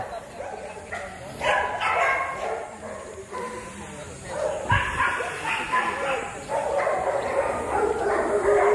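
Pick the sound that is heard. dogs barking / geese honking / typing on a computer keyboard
dogs barking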